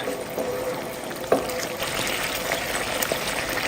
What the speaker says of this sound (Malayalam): നല്ലതുപോലെ ഒന്ന് തിളച്ച് ചെറുതായിട്ടൊന്ന് കുറുകി വരട്ടെ